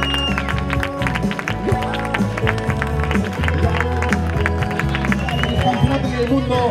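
Crowd at a Spartan Race event in Barcelona applauding the winners, scattered clapping and crowd noise mixed with steady background music and ambient babble, moderately loud and continuous.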